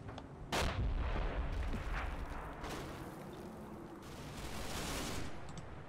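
Heavy booming cannon fire and rumbling explosions in a tank combat video game, one very loud close blast followed by a continuous rolling barrage of distant gunfire and rumble.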